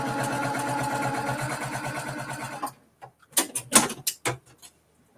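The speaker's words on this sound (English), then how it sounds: "And I'm going to sew on the line." A sewing machine stitches a quilt piece along a marked line, with a rapid, even mechanical chatter for under three seconds before it stops. A few separate clicks and knocks follow.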